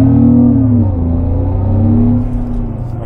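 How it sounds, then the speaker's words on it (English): Renault Clio IV with the R-Sound system playing a synthesized Clio V6 engine note through the cabin, a loud steady droning hum that rises and eases as the car drives, no talk. "So that means you get the sound of a Clio V6."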